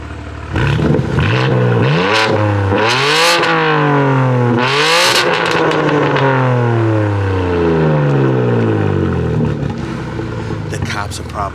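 A BMW G82 M4 with its exhaust valves open revs hard toward redline, the loud engine note climbing and falling in repeated sweeping pulls with crackling exhaust pops, close and continuous.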